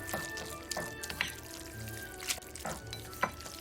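Water is poured in a faint, steady trickle with a few soft splashes and drips, close by and otherwise quiet.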